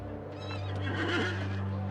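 A horse neighs loudly and close by, a rising and falling whinny over a steady low hum, with faint hoof clip-clop beneath.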